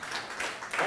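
A brief burst of audience applause for speaker Chris at a Blackmagic Design conference and expo in Kenya, a continuous hiss of many hands clapping with no break.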